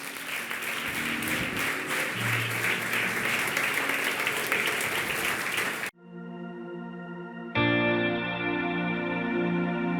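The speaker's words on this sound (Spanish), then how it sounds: "Dale un aplauso fuerte al Señor." Church congregation clapping loudly and continuously at City Church Barcelona for about six seconds, then breaking off as reverberant keyboard and worship music swell in.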